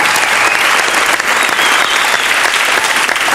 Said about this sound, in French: on applaudit Philippe Guérin